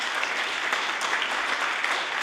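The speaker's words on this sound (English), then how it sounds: "give this hard-working group of volunteers a hearty round of applause" A legislative assembly chamber breaks into a brief burst of hearty applause for a group of volunteers, with steady, dense clapping from many members at close range.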